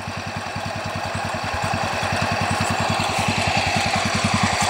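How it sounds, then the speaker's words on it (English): A C-81 garden tractor engine idling, a steady close thumping putter with an even rapid rhythm that runs unbroken and grows slightly louder. "And then there's my C-81 just idling away."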